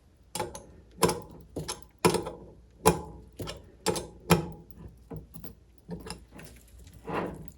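A wrench tightening a hydraulic hose fitting on a Mercruiser Alpha One Gen 1 outdrive trim ram gives a series of sharp metallic ratcheting clicks in an irregular rhythm, close up and fairly quiet, with no talking.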